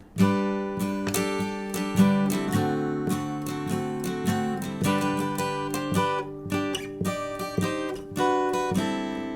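Acoustic guitar plays a flowing, ornate verse ending of a song alone, with quick plucked runs over sustained chords, steady and moderately loud.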